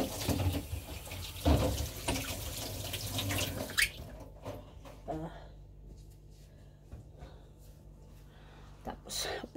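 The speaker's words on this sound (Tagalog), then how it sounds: "dahil galing tayo sa labas, maghugas ng kamay" Water runs from a tap as hands are washed, a steady splashing stream that stops partway, followed by a few drips and clinks while people talk throughout.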